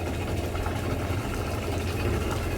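Yamaha 252XE jet boat engine, starboard side, running on its own: a steady low mechanical rumble and drone at idle, fairly loud and continuous, with no talk over it.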